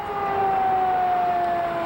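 A city tornado warning siren sounds as one loud, sustained wailing tone that slowly falls in pitch and holds steady throughout.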